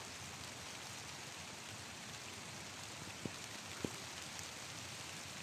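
Steady, dense rain falls throughout, an even hiss on surfaces, with a couple of brief sharp drips or knocks near the end and no voices.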